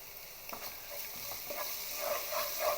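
Onion paste frying in a pan with turmeric and curry leaves for a chicken fry, giving a soft close sizzle with spatula scrapes and stirring that grows a little louder near the end, with no talk.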